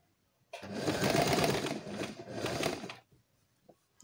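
A sewing machine runs close by while stitching a draped skirt, a continuous whirring burst of about two and a half seconds with a slight dip midway, then stops, followed by a couple of faint clicks.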